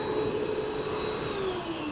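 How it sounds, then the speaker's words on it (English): A hand blow dryer in a public toilet runs as a steady, even whirring roar with a faint whine over it, with no talk. "Then we have a blow dryer."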